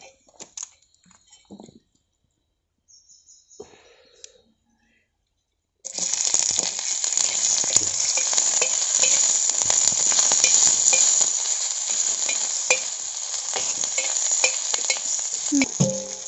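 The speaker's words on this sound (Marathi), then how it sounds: "याच तव्यामध्ये थोडंसं तेल टाकून त्याच्यावरती कांदा भाजून घ्यायचा" After a few faint clicks and near-silence, a steady, loud sizzle of onions frying in a little oil on a griddle over a wood-fired stove starts and continues, with occasional stirring scrapes.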